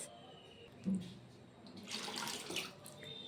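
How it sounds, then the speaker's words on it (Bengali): Water poured into a bowl used for grating potatoes in a home kitchen, a soft, splashing rush that swells for about a second and then fades, heard faintly without any talking. "এবার এই পাত্রে কিন্তু আবারও জল নেব"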